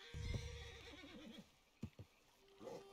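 A horse in Red Dead Redemption 2 gives a loud, drawn-out whinny, followed by a few sharp hoof thuds and clops, with a faint watery background.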